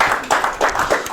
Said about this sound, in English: let's give Annika a round of applause